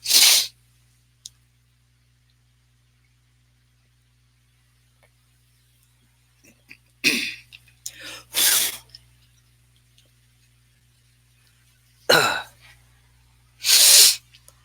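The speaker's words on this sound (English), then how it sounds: "Y'all not heard me sniffing up in the mic." Loud, close sniffs and snorts into a microphone, an isolated one at the start and then two pairs of sharp bursts separated by quiet stretches.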